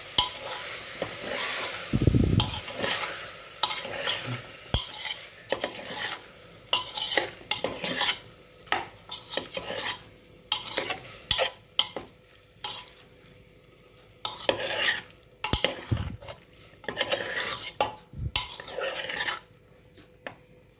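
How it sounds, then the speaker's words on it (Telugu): Meal maker soy chunks being stirred through fried ingredients in a frying pan for a curry, with repeated close scraping strokes over a soft sizzle and some louder utensil knocks. "మన మెయిన్ ఇంగ్రీడియంట్ మీల్ మేకర్ వేసుకొని మంచిగా కలుపుకోవాలి"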